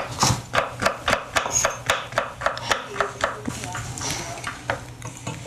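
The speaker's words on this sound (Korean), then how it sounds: "모든 재료를 같은 크기로 깔끔하게 채를 썰어 봅니다" Kitchen knife julienning carrots into thin strips on a cutting board for Korean gujeolpan, a fast, regular run of crisp close chops, about three or four per second, with no talking.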